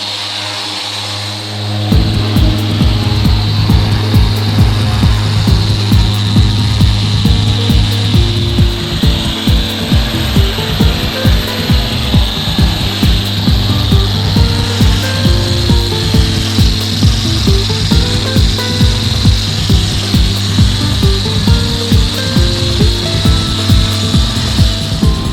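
A power buffer polishes a motorcycle, starting up after about two seconds into a loud, sustained whir with a steady rhythmic pulsing that runs on alone for over twenty seconds.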